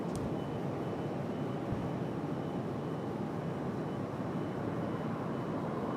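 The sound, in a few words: Cessna Citation CJ3 jet landing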